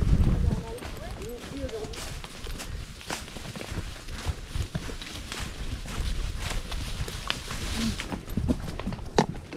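Horses walking on a Pyrenees mountain trek, hooves clip-clopping in a steady, uneven rhythm near the mic throughout, with wind and some movement noise around them.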